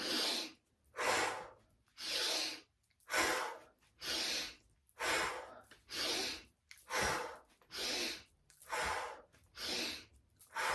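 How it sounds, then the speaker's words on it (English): Rhythmic, forceful pranayama breathing in a kundalini yoga session, about ten strong breaths in steady succession, each a loud, close, airy rush of inhale and exhale with short gaps, no talking over them. "So breathing in."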